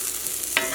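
Shallots or onions caramelizing in a pan produce a soft, even sizzle for under a second, ending in a brief scrape.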